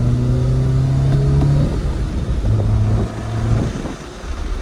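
A Toyota Celica engine with a short ram intake revs up with a rising whine, then eases off and revs again, loud and close with rumbling road noise.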